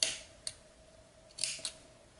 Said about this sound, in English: to just trim these ends.